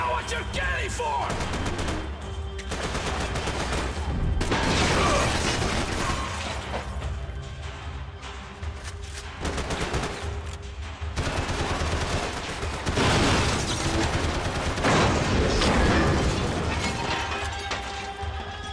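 Sustained gunfire in the video game Max Payne 3, with dense bursts of shots and heavy impacts recurring throughout amid game action and explosive crashes, loud and close.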